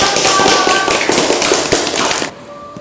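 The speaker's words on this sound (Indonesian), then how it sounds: "Berikan aplaus untuk semua kelompok" Classroom applause for student groups, dense clapping from many hands that is loud and steady for about two seconds before cutting off sharply to quieter room noise.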